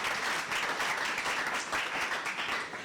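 Students applauding, a continuous dense patter of many hands clapping together, steady and moderately loud from start to finish with no speech over it.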